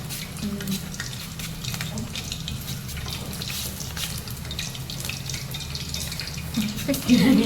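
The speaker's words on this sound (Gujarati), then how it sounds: "અને એમાં ડાયરેક્ટ તેલમાં જ પાડી દેવાનું" Thin potato wafer slices fry in hot oil with a steady, close crackling sizzle, and a brief louder spatter near the end.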